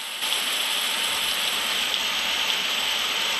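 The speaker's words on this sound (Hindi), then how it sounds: "अरे यार, ये अचानक बारिश कैसे पड़ने लग गई?" Sudden rain pours steadily, a dense even hiss of heavy drops on surfaces filling the whole scene without a break, with no voices over it.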